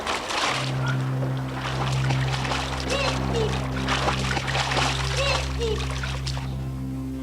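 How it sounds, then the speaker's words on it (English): Water splashes and churns over a steady low mechanical hum, with soft voices faintly mixed in. "And then she heard a splash."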